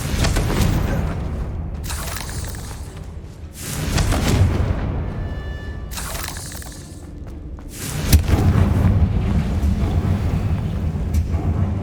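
Booming blasts from the Confringo spell in Hogwarts Legacy thud and roar in several heavy bursts separated by quieter rumbling gaps, loud and close, with no one talking.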